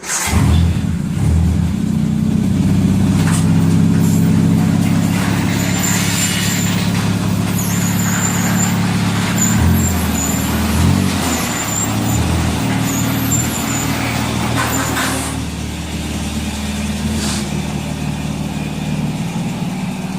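A Triumph Spitfire out on a test drive after a radiator replacement: the engine drones loud and close the whole time, its pitch shifting as the car drives, with no talking.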